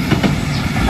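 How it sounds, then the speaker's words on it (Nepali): A train arriving rumbles steadily close by, with a continuous low clatter of wheels on rails throughout the short stretch. "रेल आयो"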